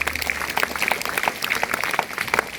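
An audience at a gathering claps loudly and densely, a continuous patter of many hands close by that fills the whole stretch.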